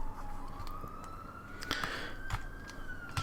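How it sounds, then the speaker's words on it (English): A siren wails steadily in the distance, its pitch slowly rising and holding, with faint background noise and a few scattered knocks around it. "It's really unusual to hear sirens here this close."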